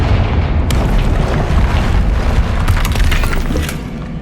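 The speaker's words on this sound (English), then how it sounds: "Another barrier. We can blast through it," In the Hogwarts Legacy video game, a Confringo spell blasts through a barrier with a loud, sustained rumbling boom and crackling debris that fades slightly toward the end.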